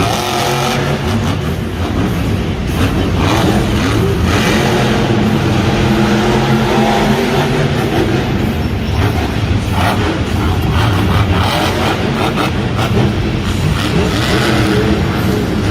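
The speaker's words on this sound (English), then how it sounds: "Again, driving a front engine truck." A front-engine Monster Jam monster truck roars at a stadium show in San Antonio, its engine revving loud and steady for the whole stretch, a thick continuous drone with crowd noise mixed in and no talking.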